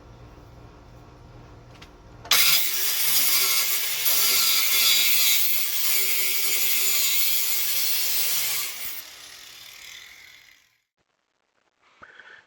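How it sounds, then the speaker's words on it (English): A grinding wheel cuts through the metal footplate of a camper stabilizer jack, giving a loud, bright, steady abrasive roar that lasts several seconds, then winds down into quiet, with a faint clunk at the end. "So I marked off the footplate of the stabilizer jack and started to cut it off with my grinding wheel."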